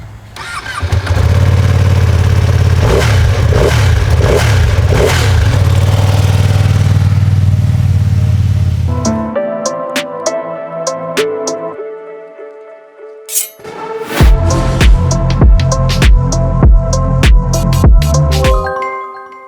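2024 Ducati Panigale V2 superbike, small-displacement engine, heard as a loud close rumble with sharp revs, a brief drop to quieter idle, then renewed aggressive throttle blips.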